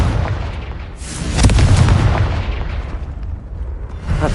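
Hogwarts Legacy's Confringo spell goes off as a loud, booming explosion with a dense roaring burst that swells midway and rumbles on to the end.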